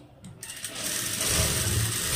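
A sewing machine stitching a blouse, starting after a brief quiet moment and building into a close, steady whirring run.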